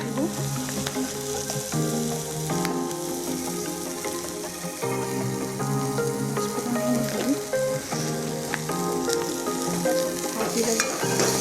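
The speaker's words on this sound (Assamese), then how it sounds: "প্ৰথমতে তেল দিলে অলপ, তাৰপিছত জ্বালা, পিঁয়াজ আৰু তেজপাত দি ল'লে" Onion and bay leaf fry in oil in a pan, a loud continuous sizzle with stirring scrapes, close and steady from start to finish.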